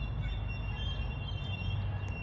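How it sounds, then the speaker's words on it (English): A slow park train in Saskatoon rumbles along with a low, continuous rolling drone and a faint high whine from the wheels, steady and close throughout. "train is coming."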